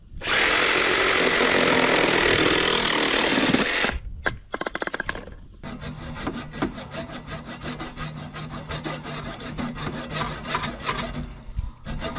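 Sawing a pipe to length for pool plumbing: about four seconds of steady, loud cutting, then a clatter and rapid rasping strokes with rubbing and handling noises close by.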